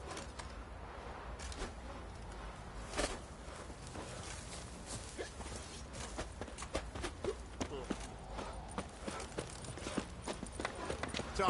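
Rhythmic clip-clop of horse hooves plodding along steadily in The Witcher 3: Wild Hunt, mixed with ambient game sounds and faint background noise.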